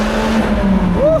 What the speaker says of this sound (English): It's just when I blip the downshifts.